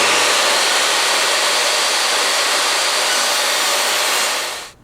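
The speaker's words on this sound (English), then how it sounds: "I'm going to rip my 1x3 stock into a 2 1/4 inch wide strip using my table saw" A table saw rips 1x3 wood stock into a narrow strip for a bat house, a loud steady broadband whine of the blade cutting through the board that fades out abruptly at the end.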